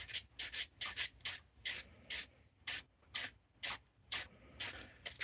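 Wood being sanded by hand, a series of regular back-and-forth rubbing strokes, each short and scratchy with brief pauses between, close up and fairly quiet with no speech.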